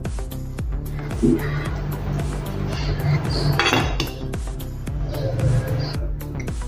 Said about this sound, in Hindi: ढक्कन लगा के और से हम इसको 10 मिनट पकने देंगे